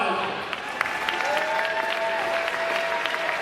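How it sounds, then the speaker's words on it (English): Applause from a crowd at a homecoming royalty announcement during a women's basketball game in a gym, sustained clapping with a faint tonal whine and some voices underneath. "let's give them a round of applause."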